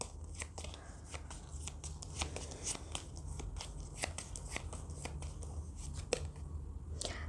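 Tarot cards being shuffled and drawn, a close, continuous run of crisp riffling flicks and slaps of card stock, fairly quiet and without talk.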